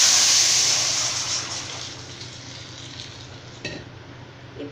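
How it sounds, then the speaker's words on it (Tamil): Horse gram rasam liquid poured into a hot pan, giving a loud, bright sizzle that fades into a steady simmering hiss with a small clatter near the end. "இப்போ நம்ம கரைச்சி வச்சுருக்கக்கூடிய ரசத்தை இதில் சேர்த்துக்கலாம்."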